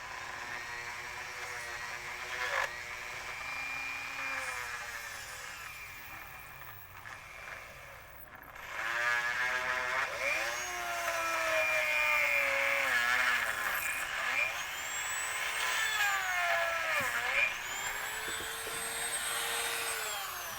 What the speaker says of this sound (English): tried to use this variable Dremel to try and cut down on the RPMs so that we didn't melt the plastic